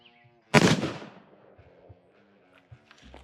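Single sharp gunshot from a CCW Glass Cannon pocket pistol, a loud close crack with a decaying tail, followed by faint small knocks and handling sounds.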